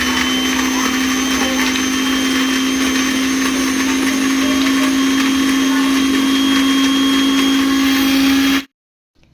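An electric mixer grinder whirs loudly and steadily as it blends coconut chutney with cumin, garlic, salt and green chillies, running close and continuous before cutting off abruptly near the end.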